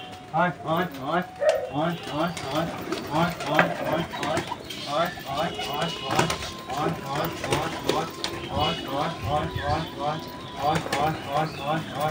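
A Madras pigeon coos in steady repeated phrases, close and fairly loud, with a voice talking over it throughout.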